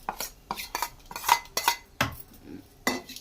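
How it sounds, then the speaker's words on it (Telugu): Spinach dal being stirred in a metal pot with a spoon, with cooked lentils and coriander added. Repeated clinks and scrapes of utensil against the pot come in a steady rhythm, close and fairly clear, with no talk. "వేసుకొని ఇక కలుపుకోవాలి"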